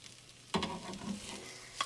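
Eggs with peppers and spinach sizzle in a pan as ingredients drop in. A soft frying hiss turns into a crackling burst, then settles, with a light clatter near the end. Close, with no talking.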